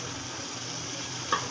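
Malabar spinach stems (puishak) frying in oil give off a constant, even sizzle up close, with one short clink of a utensil near the end and no voices.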